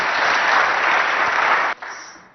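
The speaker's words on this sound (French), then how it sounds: "Sous vos acclamations, s'il vous plaît." Studio audience at a televised high-school quiz contest breaking into full, dense applause, then cutting abruptly and resuming more faintly for a moment.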